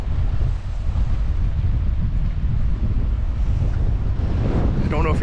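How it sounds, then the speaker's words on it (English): Strong wind gusting over the mic at the end of a seaside pier by choppy sea water, a steady loud roar with low rumble throughout and a brief voice near the end. "I don't know if you're picking up all the wind"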